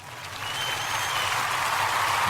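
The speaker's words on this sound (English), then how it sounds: "Definitely had to give them a round of applause." Round of applause from a small group, steady dense clapping that swells slightly and holds, with no talk over it.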